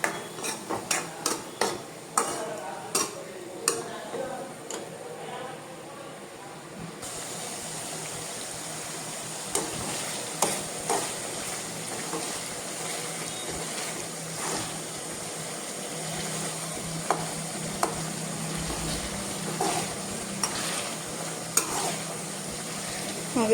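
A pav bhaji mixture of onions and tomatoes frying in a pan is stirred, with scraping knocks and clinks over a soft continuous sizzle, irregular strokes throughout, fairly quiet and close.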